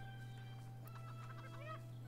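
Chickens cluck softly in the farming video game Stardew Valley, a few short clucks over a steady low background hum.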